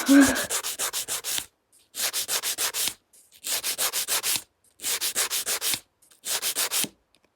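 A nail file shapes a gel nail extension in five bursts of quick rhythmic rasping strokes, each about a second long with brief pauses between, close and fairly loud with no talking.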